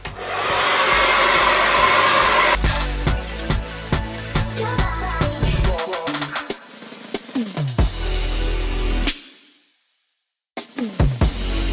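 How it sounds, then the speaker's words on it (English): A hair dryer blasts loudly and steadily while drying hair, then breaks into clattering handling noises, sputters, cuts off into brief silence and starts again near the end. "So I'm just gonna dry my hair first."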